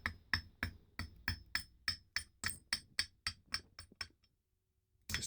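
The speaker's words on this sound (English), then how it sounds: "you might have to just give it a tap down with the hammer" A hammer taps an Austin A35 A-Series engine part into place in a quick, even series of about fifteen sharp metallic taps, then stops and falls quiet.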